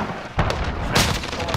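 A cruise missile strike in Call of Duty: Modern Warfare multiplayer bursts out as a loud, broadband boom, followed moments later by a second heavy blast amid crackling battle noise, with no talk over it.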